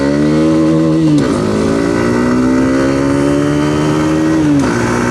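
Bajaj Pulsar N160 or Hero Xtreme 160R motorcycle on a test ride, its engine note climbing steadily in pitch, dropping briefly at a gear change around the one-second mark and again near the end, loud and close with no talk.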